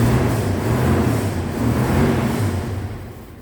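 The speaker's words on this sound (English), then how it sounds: "I'll give it a little rev." A 1967 Rolls-Royce Silver Shadow engine given a light rev, a smooth, fairly loud low rumble that swells briefly and then eases off, with no talking.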